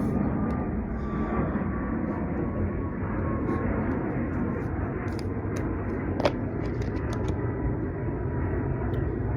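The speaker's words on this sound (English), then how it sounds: "Well, there's the orange plane." An airplane flying overhead makes a continuous broad roar that stays even for nine seconds, with a few faint clicks scattered on top and no talking.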